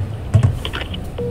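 Telephone keypad tones sound as a number is dialed for a quick call, a few short beeps in close succession followed by a steady tone, close and fairly loud with no talking.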